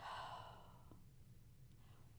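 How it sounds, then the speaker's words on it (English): A single deep exhale by one person during a guided breathing exercise, a soft breathy rush that fades into quiet, followed by a brief sharper sound at the very end. "and breathe out."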